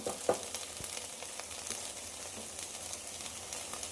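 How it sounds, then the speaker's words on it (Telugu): Okra fries in a pan with a steady close sizzle and occasional pops and stirring scrapes, with no voices. "బెండకాయలో బంక్ అంతా వెళ్ళిపోయి మంచిగా ఏగుతున్నాయి బెండకాయలు"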